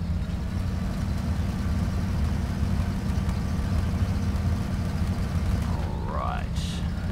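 A truck engine drones steadily in the Mud Runner off-road driving game, a loud continuous low rumble with a brief higher whine or squeal near the end.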